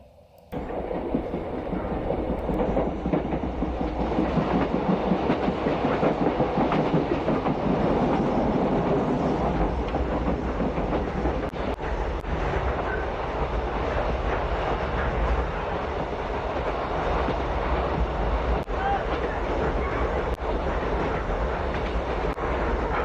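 A train runs along the rails with a steady clickety-clack and low rumbling roar, loud and continuous throughout after a brief quieter start, with no speech.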